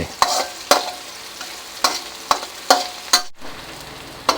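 Garlic and chili pounded coarsely with their skins are stir-fried in a wok with shrimp, giving a steady sizzle broken by sharp metallic scrapes of the spatula at irregular intervals, with no talk.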